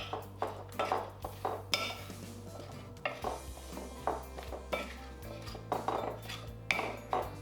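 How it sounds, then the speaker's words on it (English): Potato fries with salt and spices get stirred in a bowl, giving a steady run of soft clinks and scrapes over a faint low hum. "Then we'll just stir these around and make sure they get coated."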